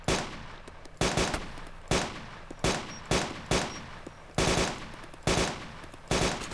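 Gunfire in the video game DayZ: about nine loud, sharp shots in an irregular rhythm, each with a decaying echo tail, close and alone without talk.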